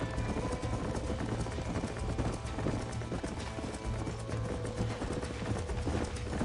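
Horse hooves clip-clop steadily in the Western video game Red Dead Redemption, a dense, continuous trotting rhythm with a background music bed and no talk.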